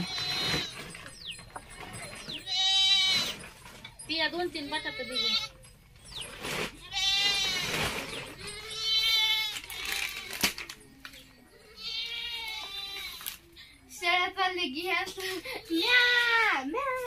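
Goats newly brought home bleat repeatedly, close and loud, in a series of wavering calls over about seventeen seconds, with some talk mixed in.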